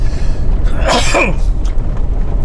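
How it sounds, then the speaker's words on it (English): A single sharp sneeze bursts out over a constant low rumble of a moving vehicle. "Sneeze."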